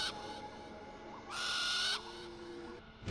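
An owl in Far Cry Primal gives a brief, clear hoot over a quiet ambient backdrop, a single close call with no talk.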